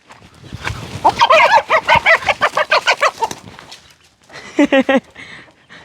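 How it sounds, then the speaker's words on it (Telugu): A hen clucks close by in a rapid run of throaty, bouncing calls, falls quiet briefly, then gives a second short burst of clucks. "మా కోడి చూడండి డ్యాన్స్ చేస్తుంది"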